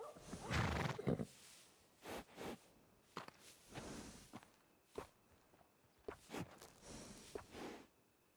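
A workhorse in the video game Red Dead Redemption 2 whinnies and snorts in bursts, mixed with hoof clops, all fairly quiet and with no speech.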